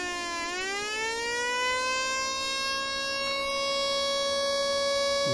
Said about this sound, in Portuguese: Ele está ligado aqui no circuito de saída da sirene